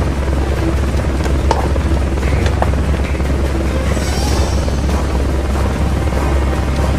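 A helicopter in the video game Metal Gear Solid Peace Walker drones loudly and steadily with a deep thudding rotor hum, with faint game effects above it and no talking.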